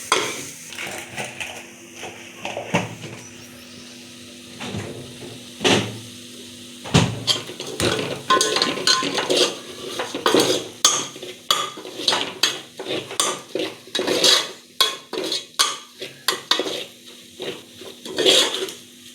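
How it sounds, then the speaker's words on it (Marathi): Ground masala paste is stirred in hot oil in a pan for a Maharashtrian katachi amti, with repeated scraping and clinking of a spoon against the pan and a soft sizzle beneath, in uneven bursts close by. "हे वाटण चांगलं तेल सुटेपर्यंत आपल्याला परतून घ्यायचं आहे."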